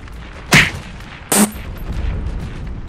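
Two sharp, loud gunshots ring out about a second apart in the shooter game Heroes and Generals, each a crisp broadband crack with a brief tail, followed by a low rumbling background.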